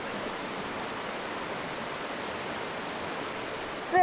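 A waterfall in the Newfoundland wilderness roars as a steady, even rush of broadband water noise, constant and moderately loud throughout with no talk over it.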